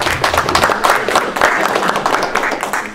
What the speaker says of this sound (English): Thanks for the applause, folks